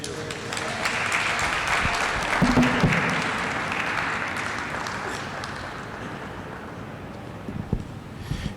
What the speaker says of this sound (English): Y'all clapping like y'all hungry.